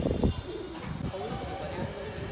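Pigeons coo softly at a rooftop loft, low throaty warbles repeating over a faint background murmur across a couple of seconds.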